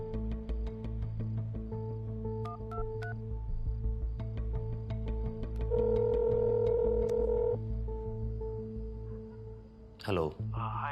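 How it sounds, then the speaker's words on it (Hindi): A phone number is dialed on a phone set to loudspeaker, a run of short keypad tones in quick irregular succession over a low background hum, followed by a longer steady tone and a brief voice at the end. "मिला रहा हूं ना पहले।"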